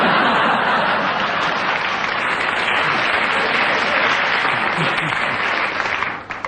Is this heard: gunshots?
no